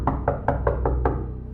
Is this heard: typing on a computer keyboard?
no